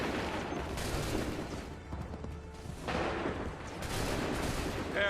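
Musket volleys crack out in Assassin's Creed 3, repeated bursts of ragged gunfire in clustered waves with shouted commands faintly in between.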